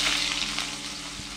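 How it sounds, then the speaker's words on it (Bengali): Whole cumin seeds sizzle steadily in hot oil in a pan, the first step of a fish curry with figs and koi fish, a continuous close crackle with no talk. "জিরে দিয়ে 30 সেকেন্ড মতো ভেজে নেব"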